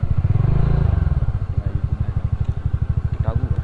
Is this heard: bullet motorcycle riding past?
yes